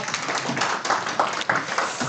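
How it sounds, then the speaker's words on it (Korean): Applause from a conference audience welcoming a speaker at a tech talk in Seoul, a steady wash of many hands clapping throughout, fairly close and even in loudness. "박수 부탁드리겠습니다."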